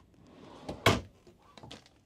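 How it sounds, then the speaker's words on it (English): A few wooden knocks and a sharp clack as pull-out drawers slide and bump in a fifth-wheel RV bedroom, with a softer rattle afterward, close by in a quiet room. "Pull out drawers here."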